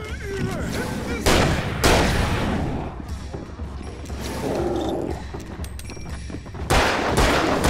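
Revolver fire and combat in the video game Alan Wake, several heavy gunshots cracking at irregular intervals amid rumbling action sounds, with a player talking in between.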